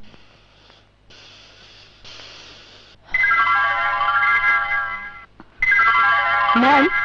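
A phone ringtone plays loudly in a Bangla film scene, a melodic electronic tune in two bursts with a short gap between them, following quieter background sound.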